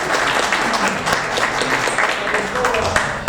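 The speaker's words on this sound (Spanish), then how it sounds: "Un fuerte aplauso, por favor, para el" Audience at a breakfast meeting with presidential candidates clapping loudly for candidate Fernando Olivera, a dense, sustained round of applause filling the room.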